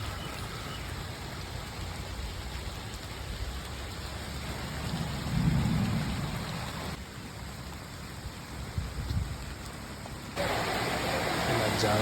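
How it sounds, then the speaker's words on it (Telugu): Heavy rain driven by wind pours down as a dense, steady roar that swells and dips, with a voice speaking faintly beneath it. "ఫుల్గా వర్షం స్టార్ట్ అయిపోయింది. ఫుల్గా గాలితో"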